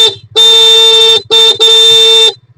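Scooter horn honking loudly three times, a short beep followed by two long blasts, very close.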